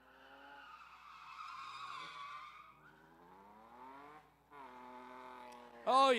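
A supercharged 5.4-liter 2008-body-style car spins its tires at a drag event, with a sustained engine roar and tire squeal building to a loud, screeching burst at the end, while a commentator talks over it.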